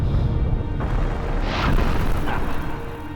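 Fire Breath attack in the game Vagrant Story, a loud roaring whoosh of flame sustained for about three seconds with a brief burst near the middle, heard alone.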